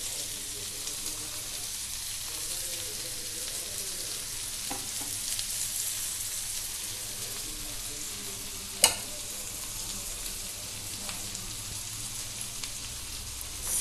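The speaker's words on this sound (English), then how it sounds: "See, our kebabs are roasted very well on one side and we have to roast them the other side also." Chicken tikka kebabs roasting in oil, giving a steady close sizzle and crackle of frying that holds throughout, with one sharp click near the middle and no talk.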